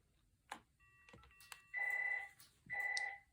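An early-1990s AT&T 1506 desk phone with built-in cassette answering machine rings from a test call, two clear electronic ring bursts close by after a few soft handling clicks.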